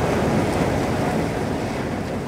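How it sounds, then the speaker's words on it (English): An expedition ship's hull grinds and smashes through consolidated sea ice as chunks break away, a dense, continuous roaring crunch with wind-like noise, loud and steady throughout. "what you're hearing there is the sound of the hull making contact with the ice"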